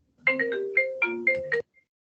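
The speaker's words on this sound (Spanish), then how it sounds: "Ahí sonó el teléfono." A telephone rings indoors during a Spanish-language religious lecture: a short electronic melodic ringtone of six quick bright tones in rhythmic sequence, moderately loud and alone, then silence.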